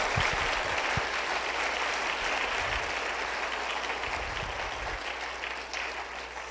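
A church congregation claps loudly and steadily for several seconds, a thick wash of applause with a low hum underneath and a few dull thumps.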